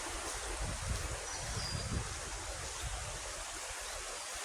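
A stream flows steadily in the open, a constant rushing wash of water at moderate level with no voices.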